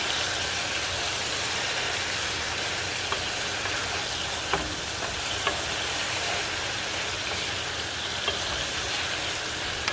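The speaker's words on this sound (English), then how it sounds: "I'm just gonna move them around. As you can see, they're not fully cooked at all yet." Albondigas meatballs frying in a pan, being moved around: a loud, dense, constant sizzle with a low rumbling undertone and a few faint knocks as they are shifted.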